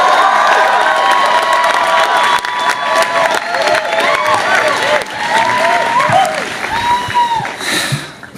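Graduation class day audience applauds and cheers loudly as a student speaker is welcomed to the stage, with sustained clapping, whoops and shouting voices throughout.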